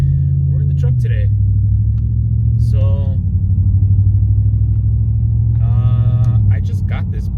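Steady low engine rumble heard from inside a moving truck, loud and constant with a slight pitch shift near the start and end, while someone talks over it.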